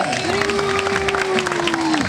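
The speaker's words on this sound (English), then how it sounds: "Having a nice big round of applause for Mishka" A crowd at an Amur tiger show in California applauds Mishka the tiger after a jump, a loud, steady burst of clapping with a sustained vocal tone held over it.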